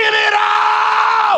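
A church congregation screaming together at a revival service, a loud sustained mass of voices close by that tails off at the end.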